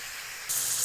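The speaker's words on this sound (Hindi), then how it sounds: "चिकन को लाइट ब्राउन करना है आपने।" Chicken fries in a pan for a white karahi, a steady close hiss that jumps to a louder, brighter sizzle halfway through the short burst.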